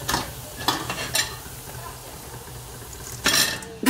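Pasta being stirred into fried bacon in a pan for a green carbonara, with a few scraping, clinking strokes at intervals over a quiet sizzle, loudest near the end.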